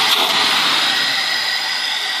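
An Audi 100 2.3 engine fitted with an Ozon carburetor runs and revs, giving a steady, loud, close engine roar with no talking.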